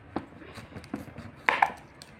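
A kitchen knife cuts through a raw kohlrabi, a few crisp, moderately faint chopping knocks spaced irregularly over about two seconds in a quiet kitchen.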